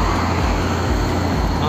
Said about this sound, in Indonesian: Nah, ini ada bis lagi.